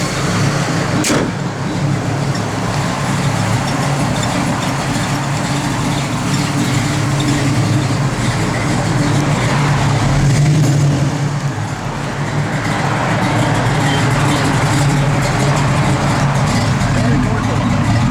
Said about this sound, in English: Hear that cam working.